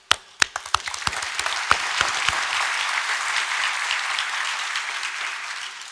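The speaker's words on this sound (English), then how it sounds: "I would like to invite everyone here to give our warmest applause" Audience at the 2024 Tang Prize award ceremony bursts into applause, a few sharp individual claps at first that quickly swell into dense, sustained clapping across the hall before easing slightly at the end.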